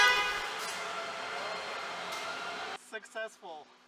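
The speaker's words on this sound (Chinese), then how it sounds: "听到喇叭响了一声，一个轮胎就完成了匹配" Air hisses steadily from a pickup truck or RV tire while the tire pressure sensor pairs, then a short car horn beep confirms the pairing, close and clear.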